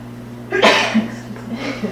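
One sharp sneeze erupts close by in a quiet bar setting, a brief burst over a steady low electrical hum, followed by faint softer breathy sounds.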